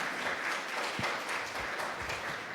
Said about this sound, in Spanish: Le agradecemos con un aplauso, por favor